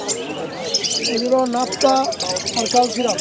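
Pigeons at Birnagar pigeon market in Nadia district coo and call repeatedly in short warbling bursts close by, amid the chatter of sellers and buyers.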